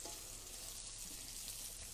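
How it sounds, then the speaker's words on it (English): Meat fat rendering and sizzling in a hot frying pan during a live cooking class, a steady bright crackling hiss that runs on without pause, with no talking over it. "And it's sizzling away"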